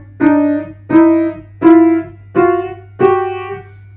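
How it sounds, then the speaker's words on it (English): Five separate piano dyads sounding perfect fifths, each struck cleanly and left to ring about half a second, evenly spaced over a steady low hum. "So if you hear a fifth on the piano"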